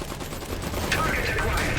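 A short, dense burst of machine gun fire rattles in the World War One-era strategy game Iron Harvest, over a busy layer of game noise.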